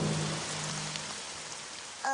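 Steady rain falls in a My Little Pony cartoon scene, a soft, even patter that lasts a couple of seconds at low volume and ends with a brief voice-like sound.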